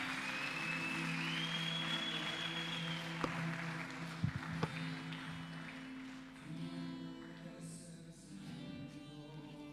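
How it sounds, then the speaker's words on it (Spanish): A church congregation applauds softly and at a distance, with scattered claps over a sustained musical tone and low background noise. "Dele un fuerte aplauso al Señor."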